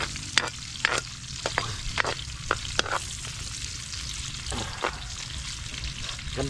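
Garlic, ginger and onion stir-fry in a hot pan, a steady sizzle broken by repeated scraping strokes of a spatula, close and fairly loud.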